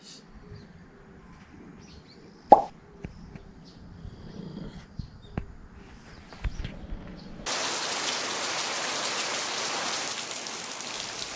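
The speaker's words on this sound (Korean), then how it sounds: "폭우가 떨어지니 진태 집 쪽으로 엄청나게 빗방울이 튑니다." Steady heavy monsoon-season rain hisses and splashes on surfaces near a dog's house, preceded by scattered thumps, drips and faint rustling.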